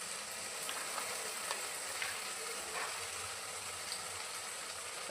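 Sauces frying in a pan for onion pasta, with tomato, soy and chilli sauce added, give a steady close sizzle and crackle, broken by a few faint stirring scrapes.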